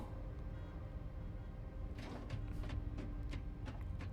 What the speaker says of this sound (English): Is that like a big door?